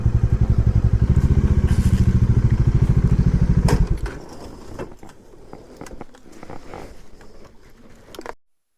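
A motorcycle engine idles with a steady, loud, rapid throb before cutting off, followed by clattering and handling noises as the bike is parked at a temple site.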